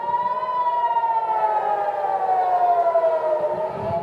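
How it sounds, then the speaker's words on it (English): Israeli air raid siren warning of inbound missiles, a single steady wail sounding continuously and loud, its pitch sagging slowly downward, with faint rumbling background noise beneath. "That's the sound of the sirens going off."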